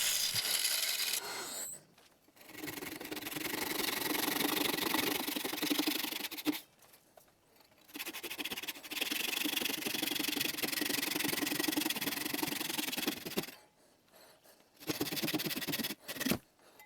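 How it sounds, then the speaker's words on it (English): Japanese handsaw cutting through manzanita burl to part a hollow form from its tenon, long steady rasping strokes in sustained runs broken by brief pauses, close and fairly loud. "I begin separating the hollow form from the tenon with a parting tool, then complete the cut using a Japanese handsaw."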